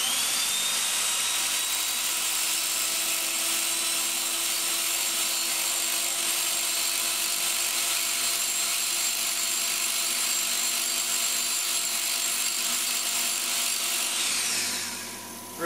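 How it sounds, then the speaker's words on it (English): An electric drill whines steadily at high speed with a grinding, rasping edge as a taper is put on the end of a metal drill shank, running continuously before winding down at the end. "in the electric drill, and we just put a taper on the end of this"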